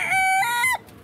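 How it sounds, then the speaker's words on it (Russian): Hens clucking and calling at a bird market, close and loud in a short burst of drawn-out tonal squawks that cut off abruptly, leaving quiet market background. "Курочки."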